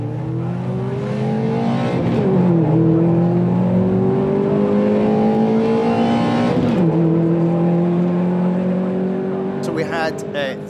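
Mini Cooper race cars at a Scottish Mini Cooper championship race accelerate hard off the start line, engines revving up through gear changes in a loud, close, rising roar, with a voice speaking over the engines.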